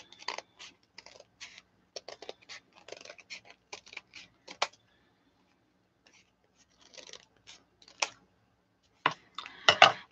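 Scissors snip through paper while trimming pages for a small handmade passport booklet, a run of quick crisp cuts in bursts, then a quiet pause and a few louder close snips at the end.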